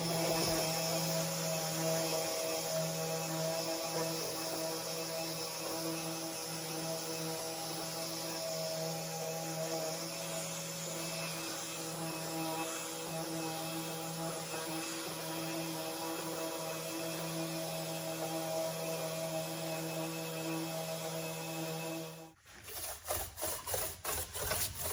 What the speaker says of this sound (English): Now, instead of wet distressing, I want to go ahead and sand this. It's got some rough texture anyway. So I just have 220 grit on my orbital sander.